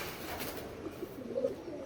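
Soft cooing of good-quality, high-flying desi pigeons offered for sale, a low murmuring call that stays faint and steady against a busy background hum.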